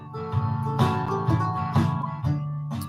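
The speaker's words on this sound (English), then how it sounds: "What I like to start with is with closed position double stop." Fiddle bowing sustained closed-position double stops, long tones changing chords every second or so, close and moderately loud with no talking.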